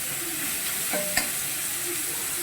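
Beans fry in a pan for a veg pasta breakfast, a steady close sizzle with a scrape of stirring near the middle.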